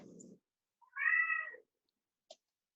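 A single cat meows once, fairly close but quiet and alone, between a short burst of soft noise and a faint click.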